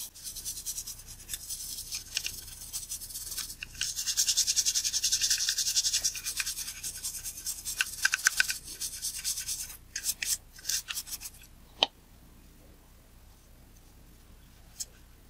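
A toothbrush scrubs a camera body with a distilled water and isopropyl alcohol solution, giving close, bristly rubbing strokes that build and then break into scattered scratches and taps before quieting.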